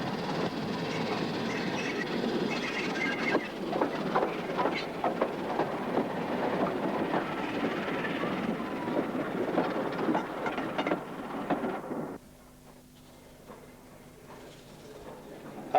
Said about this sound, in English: Busily operating the summer service, Derek Foster's Standard 4 entered Ramsbottom Station in May of 1990